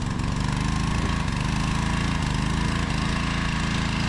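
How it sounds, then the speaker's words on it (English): A grumpy power washer's engine runs continuously nearby, a loud, steady small-engine drone with a rough, pulsing low rumble. "especially with a grumpy power washer today"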